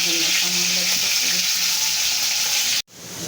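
Tilapia fish pieces frying in oil in a pan give a loud, steady sizzle and crackle throughout, cutting out abruptly near the end before resuming.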